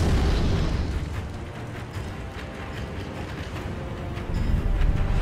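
In the video game Sekiro: Shadows Die Twice, cannon fire booms in a dense, continuous rumbling barrage of blasts, loud and sustained throughout, with a heavier swell near the end.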